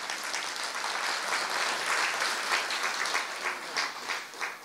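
A seated audience at a live spiritual class in India applauds, with many hands clapping in a steady, moderately loud burst that thins and trails off toward the end, with no talk over it.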